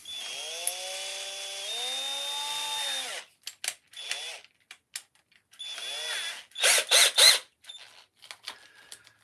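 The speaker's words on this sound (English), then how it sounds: "Right, so now I've got to try and drill this as straight as possible," A power drill with a 5mm bit bores into wood in a long whining run, then several short spurts and a few louder bursts, close and fairly loud, with quiet gaps between.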